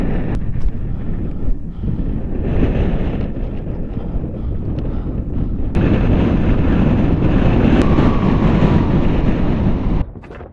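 Strong wind roars across a hilltop on a motorcycle camping trip, buffeting the microphone in gusts that surge louder partway through before cutting off abruptly at the end.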